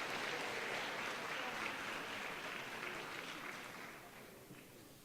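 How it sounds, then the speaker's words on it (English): Faint, steady audience applause for the Centennial Lady Stars at a board of education awards and recognitions event, an even wash of many clapping hands heard from a distance, slowly tapering off over five seconds. "Again, another round of applause."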